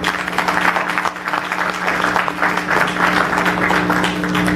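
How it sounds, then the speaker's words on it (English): A ceremony audience in a hall gives sustained applause for families at a disaster-relief check handover event. The clapping is dense and fairly loud over a steady low electrical hum and never lets up. "a round of applause for our brave families"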